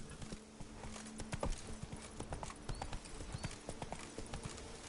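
Hooves of the horse Roach clip-clopping at a steady trot in a PS4 video game, a quick even run of hard thuds over low ambient game sound.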